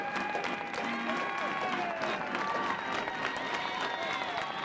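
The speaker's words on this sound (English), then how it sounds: "Everybody on their feet and clapping here in Knoxville" A crowd at a college softball game in Knoxville, Tennessee claps steadily in the stands, a dense rolling applause heard under continuous commentary from an announcer.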